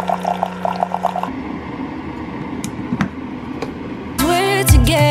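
Water pours and trickles into a vessel while coffee is being made, a soft continuous splashing close by, then a few clinks and a brighter rushing fill near the end.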